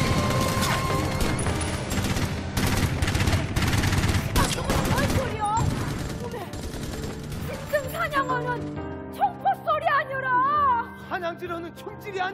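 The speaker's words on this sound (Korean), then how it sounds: "이거는 사람 잡는 총소리구만이라" Rapid bursts of gunfire sound effects in a Korean changgeuk stage performance crackle loudly in a dense volley, then give way to sustained tones as the shooting fades out.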